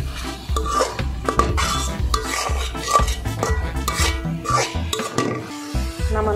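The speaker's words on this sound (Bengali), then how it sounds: "এখন নাড়তে নাড়তে আমি চিনিগুলো একদম শুকিয়ে ফেলেছি।" Carrot laddu mixture with sugar being stirred in a pan until the sugar dries out, giving a steady, close scraping and rubbing with faint sizzling and occasional utensil knocks against the pan, with no voices.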